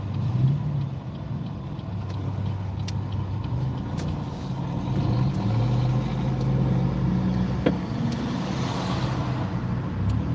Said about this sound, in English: I'm not gonna get killed by that semi truck.